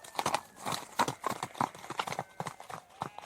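Horse hooves clip-clop in a quick, uneven rhythm, steady and fairly close, with no voices.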